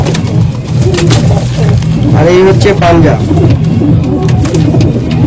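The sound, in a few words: pigeons cooing, Malwai pigeons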